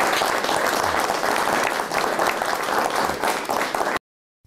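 Dense, steady applause from a gathered crowd at a community event by Lago Reñihue, loud and continuous for about four seconds before cutting off abruptly.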